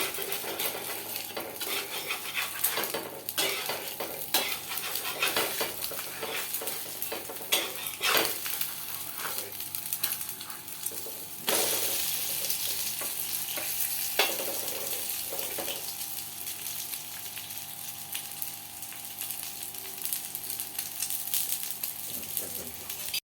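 Egg chicken parotta fries in plenty of oil on a hot pan: a dense, continuous sizzle with metal scraping, tool clatter and occasional stirring, close and steady, with some voices faintly in the background.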